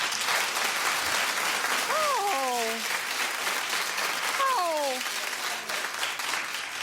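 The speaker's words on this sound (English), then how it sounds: "clap if you're with me and you forgive Chet" Studio audience at a daytime talk show applauding continuously, a dense, steady wash of clapping lasting several seconds, with a host's voice speaking briefly over it.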